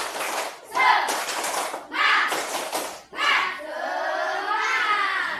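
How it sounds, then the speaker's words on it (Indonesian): A class of students claps in rhythmic bursts with shouting voices, several loud rounds followed by sustained chatter and cheering, in a classroom. "Yuk, tepuk semangat."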